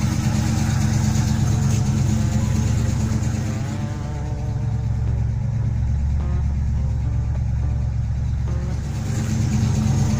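A car engine idling steadily as if stopped in traffic or at a stoplight, a loud continuous low rumble with slight fluctuation and no voices.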